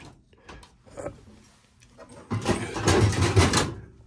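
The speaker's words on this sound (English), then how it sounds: "Now we'll do the drawers on the box over here." Metal drawers on a mechanic's toolbox slide open and shut, starting with faint clicks and scrapes and building into a loud, close rattling roll of drawer runners.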